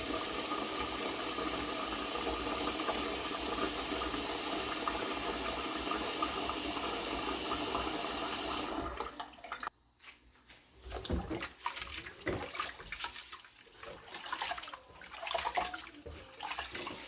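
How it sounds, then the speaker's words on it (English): Rice being washed for a home-cooked egg sauce meal: a steady stream of running water fills the first half, then breaks into close, irregular splashes and sloshing as the grains are rinsed. "So we are going to start by washing our rice."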